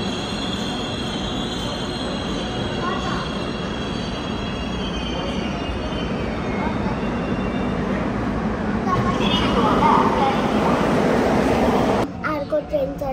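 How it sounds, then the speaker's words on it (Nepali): A subway train pulls into a station in Seoul with a loud, sustained rumble of rolling wheels and high metallic squeals that build toward the end, as people talk nearby. "ट्रेन आयो।"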